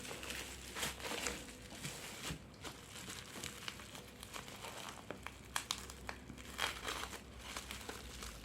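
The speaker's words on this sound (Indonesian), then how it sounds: "Oke, kita coba buka ya, pelan-pelan supaya nggak sobek bukunya." Plastic packaging around a new book being slit and peeled open with a knife, a continuous close crinkling and crackling with small tearing rustles, loud against a quiet room.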